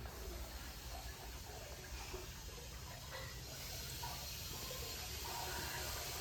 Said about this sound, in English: you basically turned on the condenser, so now it's running water through here